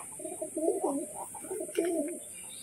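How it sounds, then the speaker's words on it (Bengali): Pigeons coo close by in two soft, throaty bursts of rolling coos, with a faint steady background hiss and a brief higher chirp between them. "এইখানে সমস্ত পায়রাগুলো চলে এসেছে একের পর এক"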